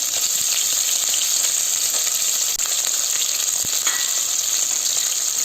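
Sliced onion frying in a pan gives a steady, loud, dense sizzle throughout, with faint stirring scrapes and no voices.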